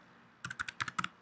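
Keys clack on a computer keyboard as a web address is typed: a short, close burst of about seven crisp, evenly spaced clicks in otherwise quiet surroundings, with no talking.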